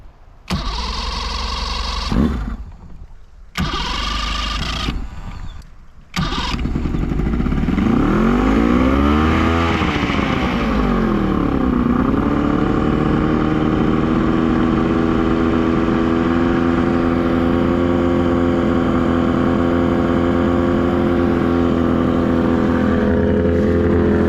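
A boat engine cranks briefly in stops and starts, then catches and revs up, settling into a loud, steady motor drone that runs to the end.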